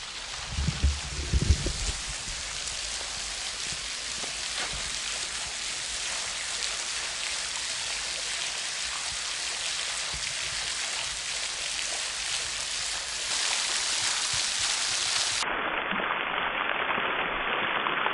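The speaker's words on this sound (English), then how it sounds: "there's water coming out of the rocks everywhere" Water streaming out of rock faces in Red River Gorge after heavy rain, a steady, close hiss of trickling and splashing water that continues without pause and with no voices.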